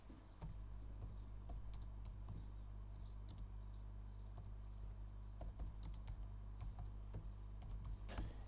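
Typing on a computer keyboard while entering a name for a new project, steady irregular keystrokes throughout over a low constant background hum, no speech.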